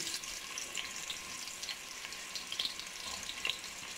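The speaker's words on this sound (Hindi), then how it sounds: "गर्म हो गया, अब इसमें प्याज डालेंगे।" Sliced onions hit hot oil in a pot, giving a steady soft sizzle with small crackling pops scattered throughout, moderately close and without any talking.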